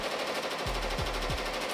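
An embroidery machine runs in a workshop with a dense, fast mechanical rattle that never lets up, while a few low thumps land on top of it, and no one speaks.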